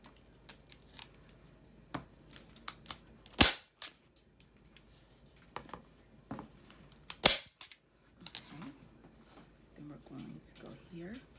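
A staple gun drives staples through fabric pulled tight over a storage bench, giving a few sharp, loud snaps spaced a few seconds apart amid light handling noise and brief talk.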